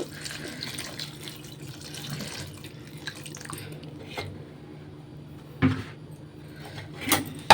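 Brine from soaked mango pieces is poured into dried mango pickle in a steady low trickle, with a couple of brief splashy bursts near the end; no one speaks.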